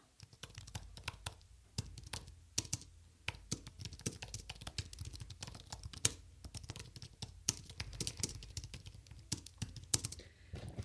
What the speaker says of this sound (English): That's what it sounds like when you type fidelity.com.